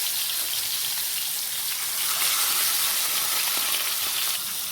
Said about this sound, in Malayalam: നമുക്ക് മീൻ വറുത്തെടുക്കാം. ഒരു 2 എണ്ണം വെച്ച് നമുക്ക് വറുത്തെടുക്കാം.